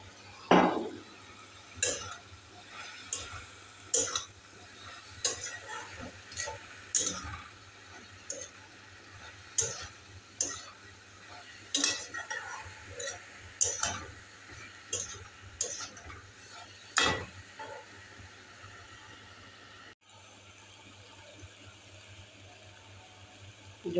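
Fried potatoes stirred into a banana flower and prawn curry in a pan, with regular scraping and clinking strokes of a spoon against metal over a soft, steady simmer, close and alone.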